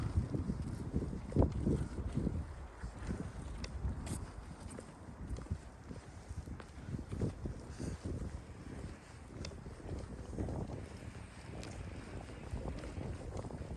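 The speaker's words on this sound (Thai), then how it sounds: "อากาศเย็น ๆ ลมพัดลมโชย ลมทะเล" Cool sea breeze gusting by the shore, a continuous rough rush of wind buffeting the microphone with uneven swells and no voices.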